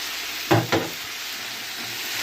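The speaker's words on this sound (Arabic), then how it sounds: "انا بحب اشوح البسله في البصل والثوم كده" Peas stirred and sautéing with onion and garlic in a pan, two short sizzling scrapes from a spoon over a quiet background hiss.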